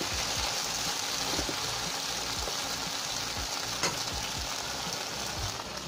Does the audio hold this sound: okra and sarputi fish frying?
yes